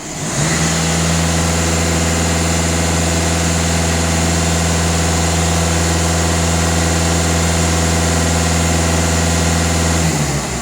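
A Volkswagen Passat or Skoda engine idles with a steady, loud, close drone and a deep even hum, held unchanged for about ten seconds before cutting off.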